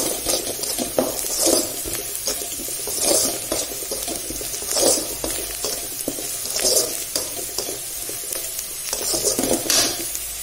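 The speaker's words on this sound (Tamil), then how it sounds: "வெங்காயம் நல்லா வதங்கிட்டு இப்போ முட்டை உடச்சி ஊற்றிக்கலாம். நாலு முட்டை ஊற்றி வச்சுருக்கேன்." Beaten eggs hit a pan of sautéed onions and fry with a steady sizzle, while a utensil stirs and scrapes in repeated swells over the crackling, fairly close and with no talking.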